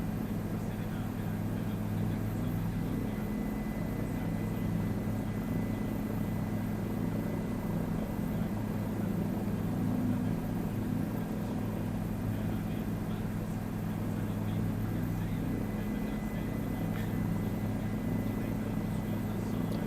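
A helicopter in a flight simulator video game, flown with a Velocity One flight stick: a steady, continuous rotor and engine drone that stays even and moderately loud the whole time, with no talking.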